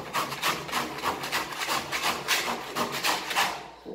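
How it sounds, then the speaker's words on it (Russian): A metal spatula scraping paint off a plaster wall in a newly built flat, rhythmic rasping strokes roughly every half second, close and moderately loud. "И потом начинаем вот таким вот образом снимать краску со"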